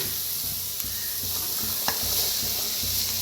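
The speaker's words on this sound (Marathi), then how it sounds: "आता कांदा चांगला भाजत आलेला आहे" Chopped onion with green chilli frying and being stirred in a pan for momo filling, a steady loud sizzle with a few scraping stir strokes, no talking.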